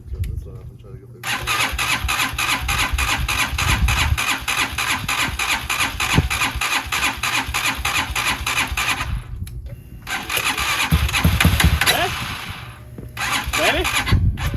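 A Hawk DLX motorcycle cranks and fires in 10°F (-12°C) cold, its engine chugging steadily up close and then settling into a rough idle. The running stops briefly and picks up again, with a voice talking over parts of it.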